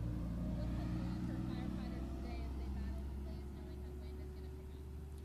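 A firefighters' truck on a desert wildfire line rumbles past with a steady low engine drone and broadband road noise, fairly close and loud, easing slightly toward the end.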